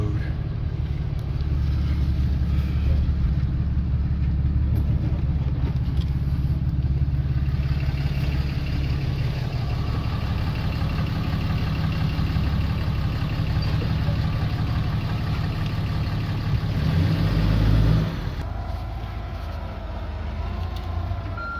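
A rancher's truck engine rumbles low and steady while moving slowly in to unload, close and continuous, then drops off near the end.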